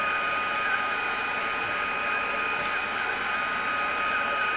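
A heat gun blows steadily over freshly stamped ink, a constant airy whir with a fixed high whine, close and unbroken throughout.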